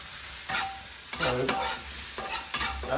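Ma Po Tofu ingredients, including Sichuan pepper, sizzle in a hot pan while being stirred, with a constant hiss broken by several scraping, clattering spatula strokes, close and without speech.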